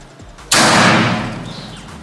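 One loud, close crack from a PCP air rifle with a 500cc air bottle, fired outdoors, trailing into a long fading ring with no talk around it.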